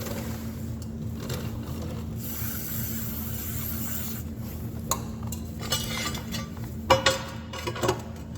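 Sporadic metallic clinks and clanks as a new metal skid shoe is fitted onto a triple mower, with a few sharper knocks near the end over a low steady hum.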